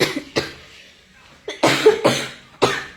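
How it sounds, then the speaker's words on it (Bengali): A run of sharp, close coughs while a curry is being sautéed, a few isolated ones at first, then a tight burst of several in quick succession. "তরকারি কষানোর সময় তো কাশি আইতেছে কি না?"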